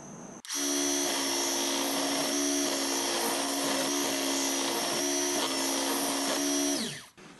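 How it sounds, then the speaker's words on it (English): Sander whines steadily while rounding over the edges of a mulberry cutting board, a loud continuous drone starting abruptly and dipping briefly a few times as the wood is pressed, then spinning down at the end. "Let's round those over on the sander"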